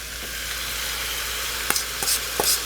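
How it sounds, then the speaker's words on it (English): Prepared sauce goes into a pan of frying pork for lettuce wraps, bringing a soft, steady sizzle and a few short spatula scrapes and clinks near the end, with no voices. "Okay, next, I'm adding the prepared sauce."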